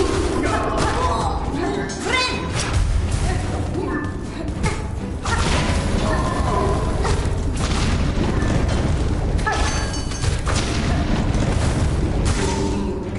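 Enemies bursting apart in Hollow Knight Silksong, a loud busy mix of booming thuds and crashes over game music, with no voice over the clip.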